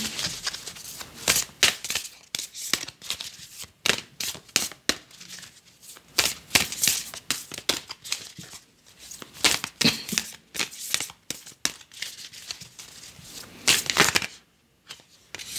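Oracle cards being shuffled by hand, a steady close run of soft riffling and papery slaps with short pauses between bursts, and no talking.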